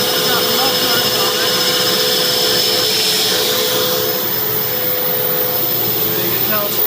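A cyclonic central vacuum unit with mufflers runs loud and steady. Its broad rushing roar and whine stay close and continuous throughout.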